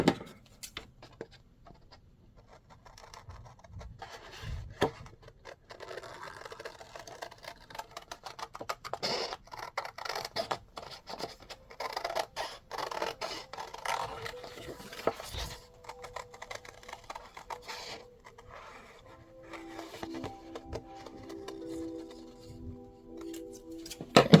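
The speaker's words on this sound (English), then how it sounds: "And then I will cut this out with scissors." Scissors cutting paper while a Victorian-themed junk journal folio is assembled: quiet, close, irregular snipping and rustling that sounds faint and alone.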